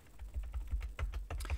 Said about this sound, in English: switch over and type